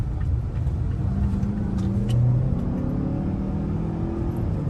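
A 2021 Mazda CX-5 Turbo takes a turn at speed, heard from inside as a steady engine drone and road rumble with a slight rise and fall in pitch; there is no talking.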